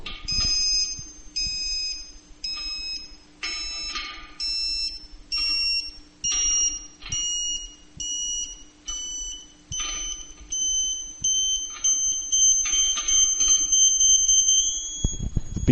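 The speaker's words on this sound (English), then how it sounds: "Beeper tone will now get higher and reach finally a continuous high tone" Tooway SurfBeam2 satellite dish alignment beeper: rapid bursts of high electronic beeps in steady rhythm that shift in pitch and merge toward a continuous high tone near the end, loud and close with no talking.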